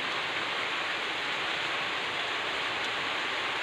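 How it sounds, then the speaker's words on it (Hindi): Rain falls steadily outside, a broad, even hiss that stays constant and moderately quiet throughout, with no other distinct sounds. "बारिश चल रहा है इसलिए थोड़ा आवाज़ का प्रॉब्लम है"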